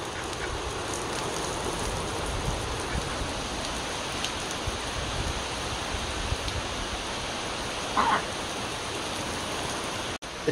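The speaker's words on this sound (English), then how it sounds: "It's just downpours." Heavy rain pours down steadily at a lakeside rental, a dense roar of drops drumming on surfaces close by, with a brief faint knock near the end.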